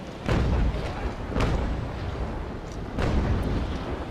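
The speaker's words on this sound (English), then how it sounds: "I'm firing one cannonball at a time because I'm hoping to be able to hit the mast" Naval Action warship cannons fire single cannonballs one at a time, each a deep booming blast that rolls out over continuous low rumbling sea and battle ambience, roughly three shots spaced a second or so apart.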